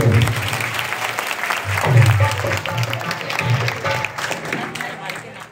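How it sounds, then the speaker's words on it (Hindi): Devotees at a Shri Ram Katha festival break into loud crowd applause, a thick sustained roar of clapping with voices and a low tonal hum beneath, fading toward the end. "तालियों में बधाई।"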